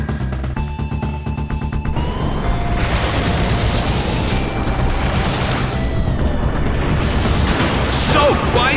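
Surf water attack in Pokémon Battle Revolution, a loud rushing wave surge with booming impacts and sustained roaring splash over game music, continuous for several seconds.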